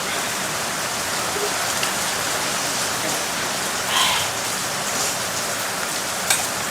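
Steady rain falls outdoors in a rural Isan setting, a dense, even hiss of drops spread across the whole stretch with a couple of brief louder spatters, no voices.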